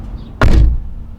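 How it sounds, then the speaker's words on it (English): A door closes with a single solid thud, loud and close, followed by a brief fading rumble in an otherwise quiet space. "Close the door."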